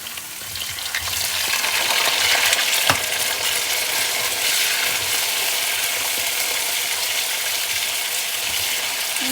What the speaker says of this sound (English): I'm going to mix it a little bit